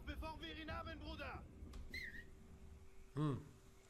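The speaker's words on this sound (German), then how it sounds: "Ich pfeife mir ein." A person whistles a few short rising and falling notes during a Mafia III playthrough, quiet, with talk and game sounds around them.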